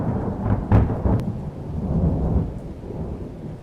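Heavy rain pours down in a night thunderstorm, with a loud thunder crack and rumbling peals early on, then a dense, steady roar of rainfall.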